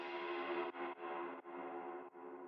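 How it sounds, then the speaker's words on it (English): Music production effects with squealy distortion and a reverb throw: a buzzy, saturated synth tone sustains in several chopped segments, cutting off briefly between them, fairly quiet and with no voice. "It kind of just like adds this kind of like squealy distortion at the end."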